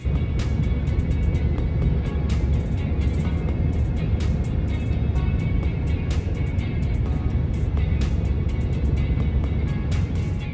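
A Tata Harrier SUV cruises down a highway at roughly 100 to 110 km/h, giving a continuous, even wash of road and engine noise that holds steady from start to finish, with no voices.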